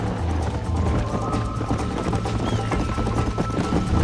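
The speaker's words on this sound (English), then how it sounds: "I think you chose the wrong horse, Miss MacFarlane" A horse gallops in the Xbox 360 video game Red Dead Redemption, a steady close clip-clop of hooves running on under a continuous rumble of background game sound.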